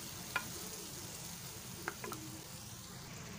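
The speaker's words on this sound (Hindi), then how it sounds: "अब हम इसको मिक्स कर लेंगे टमाटर प्यूरी को" Tomato puree being stirred into Afghani beef karahi in a pan, with a steady low sizzle of frying under a few sharp scrapes and knocks of the spoon against the pot; no one speaks.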